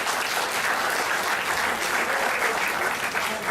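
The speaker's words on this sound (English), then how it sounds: "Can I have a big round of applause for this?" Audience applause at a college guest lecture in Bangalore, a dense, even wash of many hands clapping that holds steady and loud throughout.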